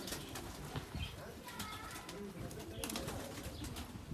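Several caged canaries coo and call close by, overlapping in a busy, echoing chorus, with a faint voice underneath.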